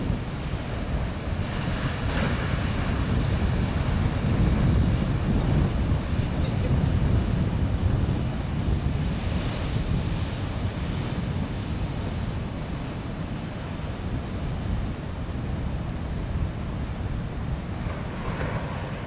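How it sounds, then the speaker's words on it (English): Ocean surf at Boiler Bay, Oregon coast, roars continuously, waves breaking and rumbling in a broad wash, mixed with gusty wind buffeting the microphone. "These are some good waves."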